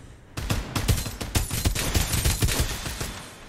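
Rapid automatic weapon fire in the Farlight 84 shooter, a fast, steady burst of loud shots rattling continuously for about three seconds after a brief quiet start, with no voices.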